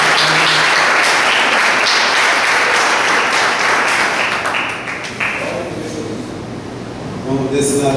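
A crowd at a church vigil claps loudly and continuously, then the applause thins and fades over the last few seconds as a voice begins speaking near the end.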